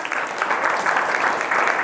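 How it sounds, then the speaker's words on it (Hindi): A school audience at a Constitution Day general knowledge quiz claps to welcome a contestant: dense, even, continuous applause from many hands throughout, fairly close and with no talk. "बहुत बढ़िया, तालियों से स्वागत करें पहले इनका।"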